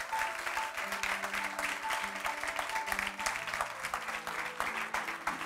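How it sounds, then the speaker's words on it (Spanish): Festival audience gives a film director a warm welcome with steady, sustained applause, many hands clapping densely throughout, while a faint tonal music bed plays underneath. "vamos a recibirles con un fortísimo aplauso"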